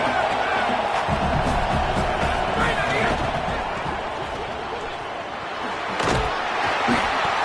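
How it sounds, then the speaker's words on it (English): Home stadium crowd in an EA Sports College Football 27 game roars steadily on third down, a dense broad wash of cheering with a few sharp thuds and swells, under commentator-style talk. "Here comes this home crowd as the defense tries to get off the field on 3rd down."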